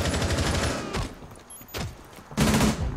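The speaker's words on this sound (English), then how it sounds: "That's a shotgun." Shotgun blasts in the tactical shooter game Rainbow Six Siege come as a dense, loud run of booming gunfire, with a few sharper reports standing out near the end.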